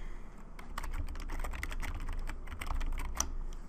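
Fingers typing text on a computer keyboard, a quick irregular patter of close, crisp key clicks running steadily throughout with no voices.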